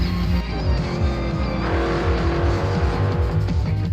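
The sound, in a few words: Porsche 924 GTP race car at Daytona 24 Hours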